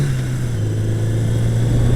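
A Yamaha mid-cruiser motorcycle engine drones loud and close with a steady low hum, pitch dipping slightly as it holds a constant rev throughout.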